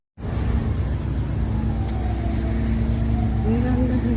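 A car on a road near a building, a loud, steady engine and road rumble right up close, starting suddenly and holding for several seconds, with a faint rising tone near the end.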